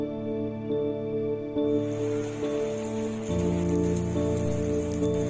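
Steady rain falls throughout, a dense hiss of drops on surfaces that grows fuller and louder partway through, with a low tonal hum running beneath it.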